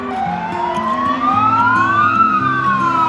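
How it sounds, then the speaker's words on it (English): A fire truck siren wails loud and clear, its tone rising and falling in long sweeps over low traffic rumble, with no talking. "So if you can hear the siren, that's very rare. You do not hear sirens. It's a fire truck, just one."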